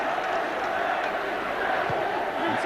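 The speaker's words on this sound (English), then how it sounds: "Chant of Leslie from the Bradford crowd" Bradford rugby league crowd at a 2007 cup match against Huddersfield, a steady roar of many voices with a rising chant for a player running continuously throughout, dense and distant-sounding.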